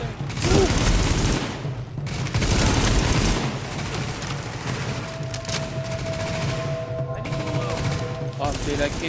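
Blind-fired gunfire in The Division, loud sustained automatic bursts in short clusters with booming impacts, easing into lighter sporadic shots over a steady combat backdrop.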